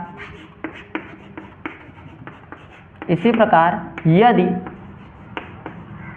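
Writing on a board during a Hindi maths lesson about numbers: a series of short, scratchy strokes and taps, with a voice talking over the middle stretch.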